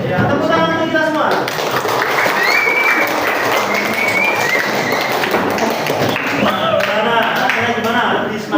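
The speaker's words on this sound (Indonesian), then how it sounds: "tepuk tangan untuk kita semua" A classroom of teacher-training participants applauds loudly and continuously, with excited voices and cheers mixed into the clapping throughout.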